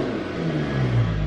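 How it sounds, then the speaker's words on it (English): A 2020 Mercedes-Benz CLS 53 AMG in Sport Plus mode gives a quick, close engine rev that swells briefly from a low rumble. "I'm gonna give y'all a quick little rev."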